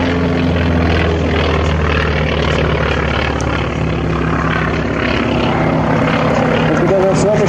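A North American B-25 Mitchell bomber's piston engines drone loudly and steadily during a low pass at an air display, a continuous close propeller roar with a commentator talking over it.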